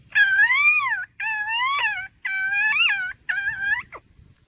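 A man imitates a koel's call, outdoors in Porbandar, in four long, loud, wavering whistled notes, each swelling and bending upward, separated by short pauses, with almost nothing else audible.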